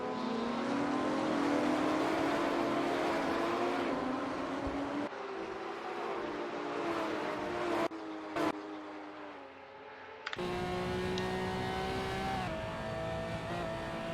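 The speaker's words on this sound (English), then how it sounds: "these cars sound so sick from the exterior" Porsche Cayman GT4 race cars lap Sonoma Raceway, loud engines revving and shifting through the gears with rising and falling pitch, heard from outside the car with abrupt cuts between passes.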